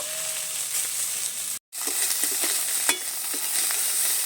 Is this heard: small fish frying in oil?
yes